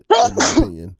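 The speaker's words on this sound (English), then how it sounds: "You sneeze right on cue." A person sneezes once, sharp and close, right at the start, and then speaks briefly in a single voice.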